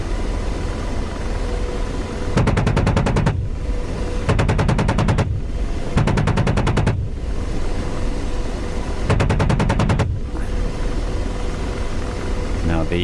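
An Apache helicopter's main gun firing in DCS: four short, loud, rattling bursts over a steady rotor and engine drone, each lasting about a second.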